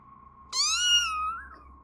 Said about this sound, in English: The same meowing sound that lured me inside, coming from that creature